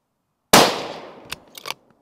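A single sharp, loud rifle shot from an Accuracy International AT-X chambered in 6BR, cracking out of silence and decaying quickly, followed by a few short mechanical clicks and clatter.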